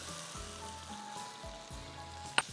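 Tomatoes and ginger-garlic paste fry in oil with a faint, steady sizzle that runs low beneath a tonal musical backing, ending with a brief sharp clink.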